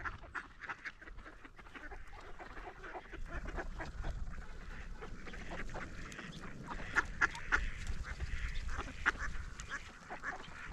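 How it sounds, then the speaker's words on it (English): A flock of mallard ducks in Toronto quacks continuously at moderate distance, overlapping calls forming a busy chorus over low outdoor rumble. "Ducks everywhere."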